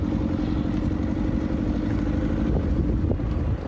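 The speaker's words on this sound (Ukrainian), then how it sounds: "Ми їдемо під рев машин. Це так звучить зенітна установка." A military anti-aircraft gun vehicle drives along with a steady, loud, rumbling engine roar that continues without a break and carries rough wind-like noise.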